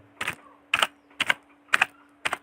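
Five distinct bursts of keypresses on a computer keyboard while entering an iPhone giveaway offer, each quick cluster of clicks separated by short pauses, close and fairly clear over a faint steady hum.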